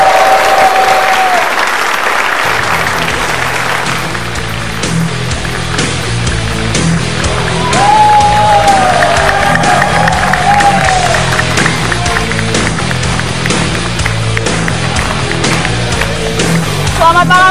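A studio audience applauds to welcome Joko Widodo, with dense sustained clapping and some cheering that carries on for the whole stretch under music and a presenter's voice.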